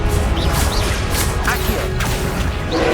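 Confringo fire spell blasts cast repeatedly during combat in the video game Hogwarts Legacy, a dense, continuous clatter of crashes, whooshes and impacts with no clear gaps, loud throughout.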